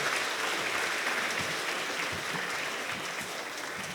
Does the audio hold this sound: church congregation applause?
yes